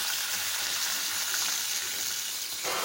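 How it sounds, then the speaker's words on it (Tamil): Water is poured into a rice flour mixture for salted adai, giving a steady, close hiss of liquid that runs for nearly three seconds before easing slightly at the end. "2 டம்ளர் தண்ணி. அதை வந்து இப்போ நம்ம உள்ளே ஆட் பண்ணியாச்சு"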